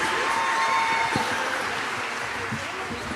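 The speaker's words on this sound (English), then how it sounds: "let's give a round of applause to our beginner/intermediate students" Audience applause at a school mariachi spring concert, steady dense clapping from a crowd filling the room and holding at an even level throughout, with some voices mixed in.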